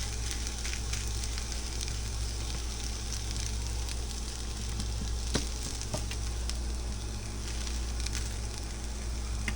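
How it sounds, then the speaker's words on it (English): Food sizzles hard in a hot frying pan, a dense, steady crackle and hiss that runs throughout with scattered sharper pops and no talking. "sizzle these at like a higher heat temperature for these"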